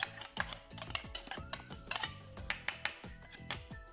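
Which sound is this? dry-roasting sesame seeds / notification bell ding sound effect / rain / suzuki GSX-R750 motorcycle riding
dry-roasting sesame seeds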